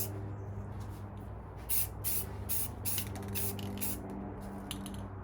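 Spray can laying a primer coat onto a toy spinning-top launcher, a series of short close hissing bursts of varying length over a low steady background hum.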